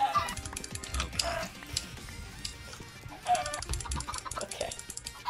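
Chickens in a video game battle arena clucking and squawking in repeated bursts, with scattered clicks and game effects around them.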